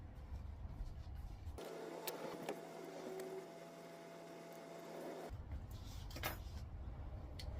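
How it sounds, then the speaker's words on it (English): An embroidery machine stitches a design onto a sweatshirt, its quiet steady mechanical whir starting after a second and a half and stopping around five seconds, with faint room noise around it. "it's gonna finish stitching out, and it's actually gonna do a vintagey zigzag stitch all around the bunny"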